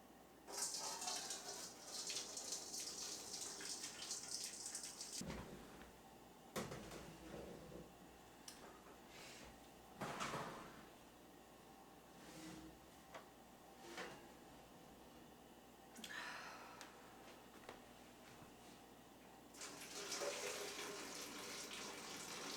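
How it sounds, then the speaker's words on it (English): Liquid is strained off trays of roasting frozen tomatillos in a home kitchen, with intermittent pouring and splashing bursts separated by quieter stretches and occasional clunks of trays and cupboards. "we're gonna strain off some of this liquid"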